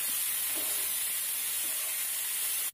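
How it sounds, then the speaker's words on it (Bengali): Fenugreek seeds frying in a pan beside a sautéed masala for a shoil fish curry make a steady, close, bright sizzle that hisses without a break, with no talk. "একটু সাইড করে এখানে আমরা দিয়ে দেব মেথিগুলো এবং একটু নাড়াচাড়া করে ভেজে নেব।"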